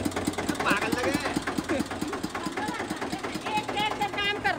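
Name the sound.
new tractor engine idling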